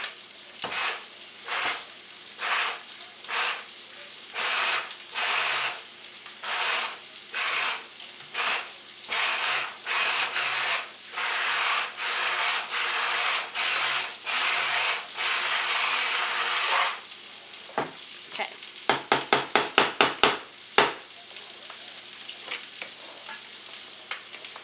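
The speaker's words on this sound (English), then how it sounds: "I'm going to take this immersion blender. It's got this like little blade underneath it. It's a handheld blender." A handheld immersion blender with a small blade underneath mixes Italian tomato sauce in a series of loud, whirring bursts that start and stop repeatedly, ending in a quick run of short pulses before going quiet.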